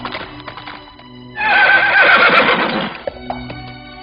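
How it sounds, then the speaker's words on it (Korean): A horse neighs in a loud, close whinny over hurried galloping hooves, a sound effect for a Sui general rushing in during a Korean historical children's story. "그때 수나라의 장군이 요란한 말발굽 소리와 함께 허겁지겁 달려왔어요."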